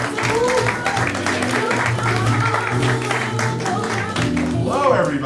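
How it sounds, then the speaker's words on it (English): A comedy club audience gives a comedian a warm round of applause, a sustained spread of clapping and crowd noise mixed with voices. "Warm round of applause, if you please."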